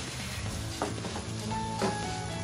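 Tomato pieces sizzle in a pan with ginger garlic paste for a prawn curry, a steady close frying hiss with a couple of brief stirring knocks.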